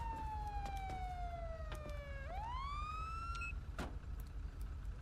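A police car siren in the LSPDFR police game wails in a long falling tone, then sweeps back upward and cuts off, with a low engine rumble beneath and no talk.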